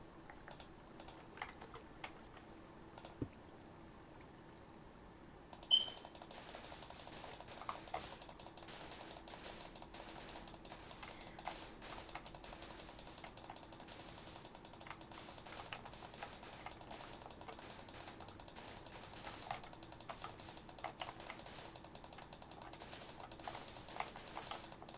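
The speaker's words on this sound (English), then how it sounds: "Sorry if you can hear my mouse clicking" A computer mouse clicks and taps during Minecraft play, faint and irregular, in quick scattered bursts over a quiet background with no talk.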